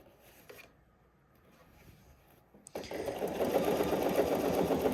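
A sewing machine stitches through a jacket sleeve with gussets, starting after a quiet pause near the three-second mark. It then runs loud and steady right up close.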